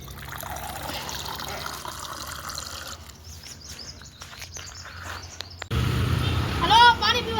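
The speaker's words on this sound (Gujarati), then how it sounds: "પાણી બાણી ભરી લઈએ" Water trickles and splashes steadily as a container is filled outdoors. Birds chirp nearby, and a voice talks over the pouring.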